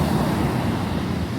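Pacific Ocean surf on a San Francisco shore washes in as a steady, broad roar with some wind, with no voices over it.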